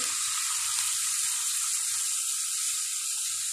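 Onion frying in a pan for a samosa filling of cabbage, carrot, chili and spring onion, a continuous bright hiss with faint low clicks and knocks of the pan underneath.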